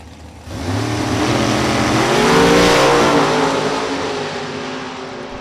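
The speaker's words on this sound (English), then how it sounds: "Right lane, Ron Barnhill, he's out of Fredericktown, Ohio, his 98 Mustang." Drag racing cars, a 2000 Camaro and a 1998 Mustang, launch at Kil-Kare Dragway in Ohio, with loud engines roaring and revving hard in a sustained blast that swells and then fades slightly as they pull away.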